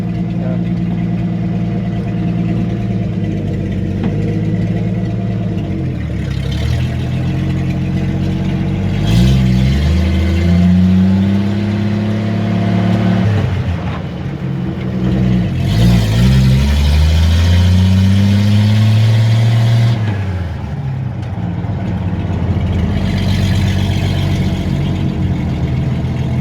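A 1958 A120 4x4 Travelette engine driving in third gear, a loud, close, continuous drone that rises and falls steadily through repeated revving swells, with a few faint voices underneath.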